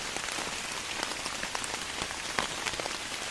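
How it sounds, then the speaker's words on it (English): Rain pattering steadily on big leaf maple leaves in a deciduous forest, a dense, even patter of close droplets with no voices. "I was able to record long stretches of really beautiful deciduous rain"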